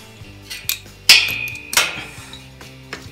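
Metal parts of a TaoTao DB14 110 dirt bike clink and clatter as a nut and bolt are removed, with a few sharp metallic strikes and lighter taps spread irregularly and close by.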